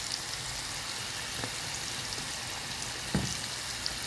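Onions coated in flour and cumin sizzle in a frying pan with a dense, steady crackle, with a few soft clinks and taps of a utensil over the continuous hiss.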